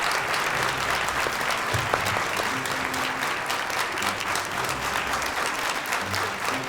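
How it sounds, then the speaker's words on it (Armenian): Steady, dense audience applause fills a talent show hall throughout, loud and continuous with no pauses. "Ձեր բուռն ծափերի ներքո դիմավորենք"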